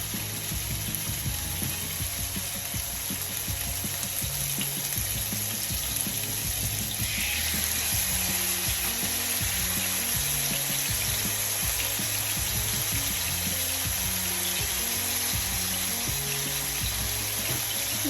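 Chicken steak frying in oil in a preheated pan, a steady broad sizzle and crackle holding at an even level throughout, close and continuous with small spits and pops, no voices.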